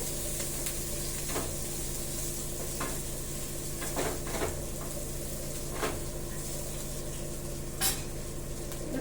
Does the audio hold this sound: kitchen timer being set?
no